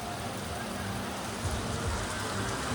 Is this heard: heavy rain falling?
yes